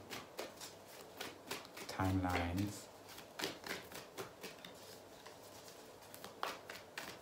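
Shuffling of a Moonology Oracle card deck, a run of quick riffling rustles and soft card flicks repeating through the clip, close and moderately loud, with a brief voice in the middle.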